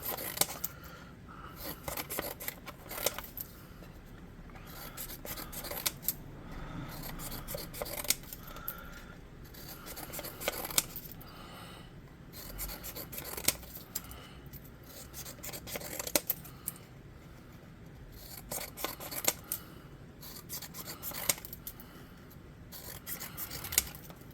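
Scissors snip long, skinny strips for a model's wings in a quiet room, a faint series of irregular cuts and rasping rubs spread over the whole stretch.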